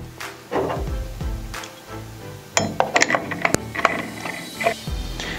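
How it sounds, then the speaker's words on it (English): Metallic clicks and ratcheting clinks from a tool-free arbor screw being threaded onto the arbor of an AGP CG150 wall chaser after the second blade and spacers are mounted, a close run of sharp taps and rattles. "then thread on the arbor screw"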